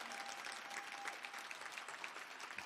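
Audience at a teacher-of-the-year gala applauding steadily, a dense wash of clapping hands from many people that stays loud and even throughout.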